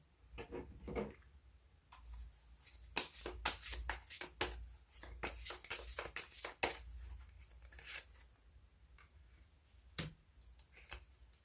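Fortune-telling cards are shuffled and drawn, giving irregular crisp riffles, flicks and papery snaps in quiet bursts close by, with no talking.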